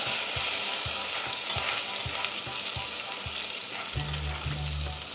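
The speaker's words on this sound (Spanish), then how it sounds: "Dejamos que la mantequilla se vaya derritiendo" Butter melts and sizzles in a hot pot with a soft, continuous frying hiss, joined by faint regular ticking and a low hum toward the end.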